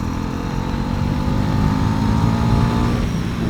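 A Bajaj Pulsar NS400Z motorcycle rides along with a steady, loud engine drone and continuous road and wind noise, no speech.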